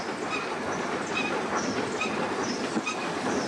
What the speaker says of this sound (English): today this rake arrives with number 3442, the Great Marquis, a K4 class 260 locomotive from the London and North Eastern Railway